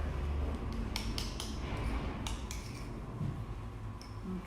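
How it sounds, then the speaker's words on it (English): A spoon stirring honey into yogurt in a bowl, giving a run of light metallic clinks and taps against the dish over a steady low background hum. "And you just mix all that honey, just stir it right into the yogurt."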